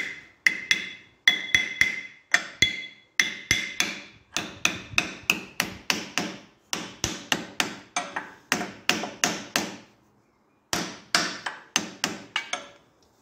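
A hammer taps seals into place on a Volpino diesel tiller, many sharp metallic taps in quick bursts of three to six with short pauses between, close and loud with no speech.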